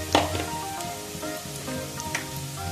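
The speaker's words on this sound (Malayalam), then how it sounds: "ഇത് നന്നായി ഒന്ന് മൂക്കണം." Masala sizzles steadily in a hot pan while frying for a crab roast, a close, continuous crackle with a few stirring scrapes and no talking.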